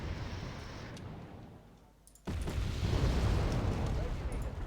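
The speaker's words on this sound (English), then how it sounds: "Bombs away." Bombs from an air strike in Wargame Red Dragon detonate with a sudden loud rumbling blast after a quieter lull, followed by a sustained heavy roar of explosions.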